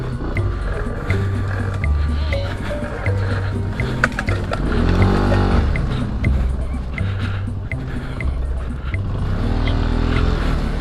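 Benelli TNT135 motorcycle ridden off road on a wooded trail, its engine droning steadily close by and swelling in a couple of revving surges as the bike works over rough ground.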